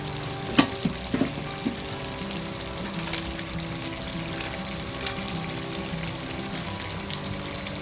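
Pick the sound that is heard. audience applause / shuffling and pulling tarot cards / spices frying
spices frying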